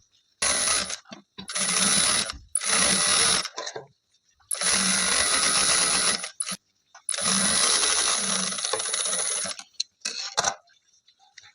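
A sewing machine stitches a border onto a suit in four or five close, loud bursts of rapid mechanical whirring, separated by short pauses, with no voices.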